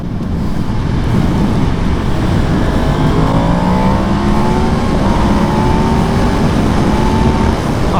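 A 2022 Yamaha MT-10 motorcycle pulls hard through the revs while riding, its engine note rising in repeated sweeps over heavy wind roar, loud and close throughout.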